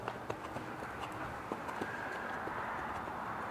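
A horse's hooves step sideways through a leg yield during groundwork on a cold winter day, producing soft, irregular clip-clop footfalls over steady background noise with no talking.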